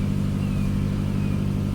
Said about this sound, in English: Seems like it's idling a little high.